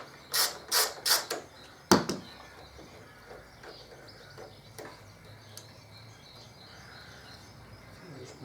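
Ratchet wrench backing out a brake line bracket bolt on a 2005 Harley Electraglide: a quick burst of four clicking strokes near the start and a sharp clack, followed by faint scattered ticks in a quiet garage.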